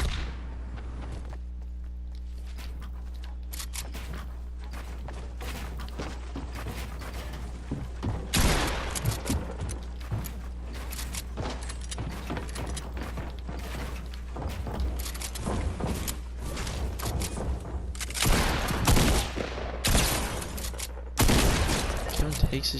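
Fortnite battle royale solo match with sniper and pump shotgun fire: scattered in-game gunshots and mechanical clicks over a steady low hum and footsteps, with busier bursts of firing in the second half.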